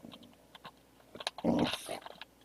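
A pet dog growls and snarls in a short low rumbling burst at close range, rising to a louder peak midway, with scattered small noises before it and no talking.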